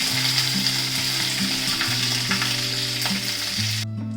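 Mustard seeds, curry leaves and dried red chillies crackle and sizzle in hot oil as a tempering for pulisemiya. The frying hiss runs close and steady over sustained droning tones, then cuts off abruptly near the end.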